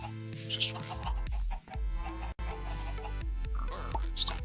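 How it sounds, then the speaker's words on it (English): Redstone chickens in Minecraft Sky Factory give short clucks over a steady tonal game soundtrack, with a person talking over them. "Redstone chickens."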